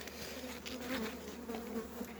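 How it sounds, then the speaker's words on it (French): A honeybee trapped under a small wax bridge inside a hive gives a steady, close, faint buzz that wavers slightly in pitch for the whole stretch. "j'ai un peu coincé une abeille"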